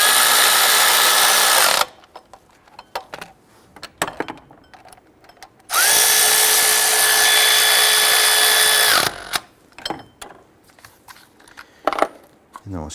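An electric power tool runs in two sustained bursts, about four and three seconds long, snugging down 15mm bolts while replacing a MAP sensor on a 1999-2004 Jeep Grand Cherokee. The whine sits close and loud, with quieter handling clatter between the bursts.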